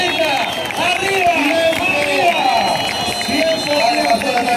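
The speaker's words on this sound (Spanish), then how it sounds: "démele fuerte aplauso a este piloto" A crowd at a national stunt motorcycle tournament in Aguachica, Cesar applauds and cheers for a stunt rider, a dense, continuous roar of clapping and voices heard close and loud, mixed with shouting from the crowd.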